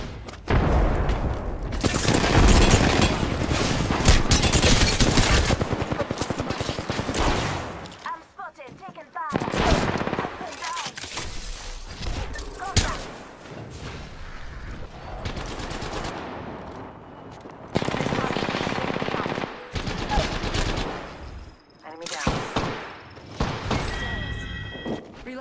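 Automatic gunfire from the Apex Legends video game, in loud sustained bursts with heavy impacts and short gaps, broken up by voices and game effects.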